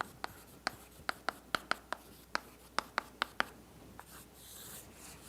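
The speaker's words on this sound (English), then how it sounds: "I'm going to write it like this." Chalk or marker strokes tapping and scratching on a board as equations are written, a quick irregular series of sharp close ticks with brief quiet gaps, no talking.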